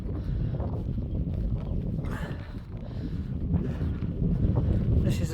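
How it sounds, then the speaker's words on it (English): Wind at an ancient stone circle, strong gusts roaring and buffeting the microphone with a heavy low rumble for the whole stretch. "It's a bit windy."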